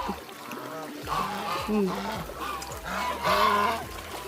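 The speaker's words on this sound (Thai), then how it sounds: "เป็ดมันจะลงไปกินก่อนวานทางนั้น" Ducks honk and quack at a farm pond while being fed, with repeated nasal calls overlapping at close range and people talking alongside.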